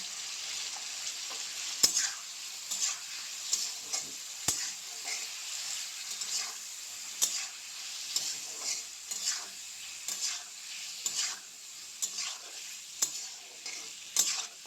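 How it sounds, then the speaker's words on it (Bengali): Potatoes fry with salt and turmeric in a pan over a low flame, a soft steady sizzle with repeated scrapes and taps of a stirring utensil throughout, close up and with no talking. "জালটা একদম লো ফ্লেমে রাখতে হবে, রেখে আলুগুলো ভাজি করে নেব।"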